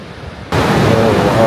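Ocean surf where a stream runs into the Pacific on a beach in the USA: a steady, loud wash of breaking waves rushes in suddenly after a quieter half-second and holds for the rest.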